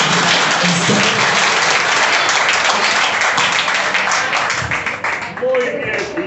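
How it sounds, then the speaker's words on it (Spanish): Guests at a gathering give a loud, sustained round of applause, thick and continuous from start to finish, with voices faintly mixed in. "Ese aplauso bien bonito"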